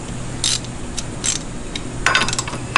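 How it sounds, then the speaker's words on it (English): Ratchet wrench clicking while tightening a lock-down on a four-post vehicle lift, in short close bursts of rapid mechanical clicks with pauses, the busiest run near the end. "Ratchet."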